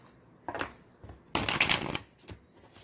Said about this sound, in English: I'm going to shuffle 2 more times